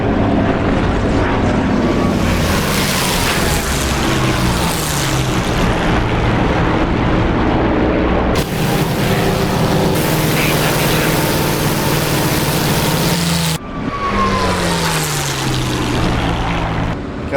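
Spitfire Mk IX piston engine in the DCS flight combat game, a loud steady propeller drone filling the whole stretch, with a harsh surge in the middle and a brief dip before the engine roar resumes.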